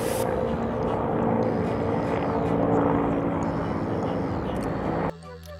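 A helicopter departs in a flyaway cutscene from a Unity stealth video game, giving a loud, steady rotor and engine drone that holds for about five seconds and then cuts off abruptly.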